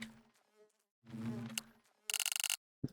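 A bee in modded Minecraft buzzes in two droning stretches, the second louder and closer, followed by a short burst of rapid rattling clicks and a single soft thump, with no voices.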